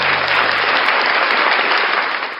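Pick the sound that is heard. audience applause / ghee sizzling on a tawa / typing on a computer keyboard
audience applause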